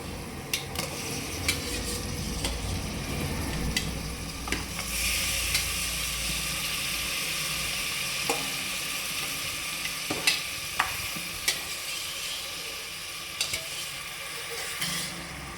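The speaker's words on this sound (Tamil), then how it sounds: "மட்டன் போட்டு நல்லா வதக்கிக்கலாம்" Boiled mutton is sautéed in a pan for mutton kuzhambu, with a soft ongoing sizzle broken by scattered spoon scrapes and clinks against the pan; nobody talks.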